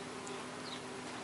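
Mason bees buzz around a well-filled nesting box in a garden, a steady, close insect drone that holds level throughout with no breaks. No voices are present.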